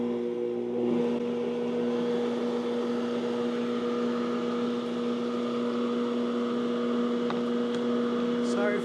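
A stand mixer kneading sourdough dough at a higher speed gives a steady, moderately quiet motor hum and whir throughout, with a faint clink near the end.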